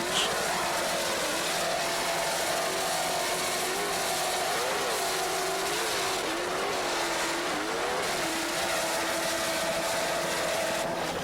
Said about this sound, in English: Just listen to those Zool racing engines.